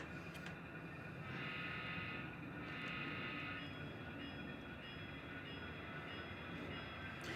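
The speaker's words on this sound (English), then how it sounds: "let's bring this train into the section" A model train with an Atlas Dash 8-40BW locomotive rumbles steadily along a track with a continuous whirring hum and faint clicking wheels, no voices.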